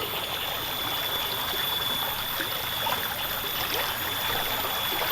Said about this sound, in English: The stream is actually up quite a bit.